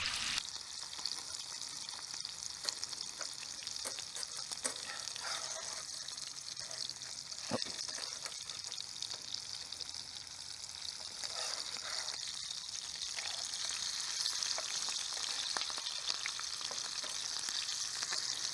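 Bacon sizzles and crackles steadily in a camp skillet, a constant bright hiss with occasional sharper pops, fairly quiet and close.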